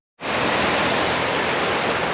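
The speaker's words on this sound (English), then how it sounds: "The water's a little fast for what I like, so we're gonna stay away from the water." Fast-flowing river water rushes in a steady, loud, broadband roar that starts abruptly and continues unbroken, with no voices.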